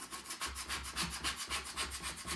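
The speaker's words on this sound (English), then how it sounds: "And just scrape up the chalk, old chalk paste that's on there." A tool scrapes old chalk paste off a reusable surface in steady, rhythmic back-and-forth strokes, close and fairly loud, roughly five or six strokes per second with no talking.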